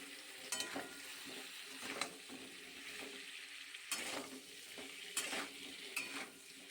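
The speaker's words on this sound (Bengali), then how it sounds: "এখানে কিন্তু সবজিগুলো আমার ভাজা ভাজা হয়ে এসেছে।" Vegetables stir-fry in a pan for a fasting-day meal, a continuous sizzle broken by repeated scraping strokes of a spatula every second or so, close and moderately loud.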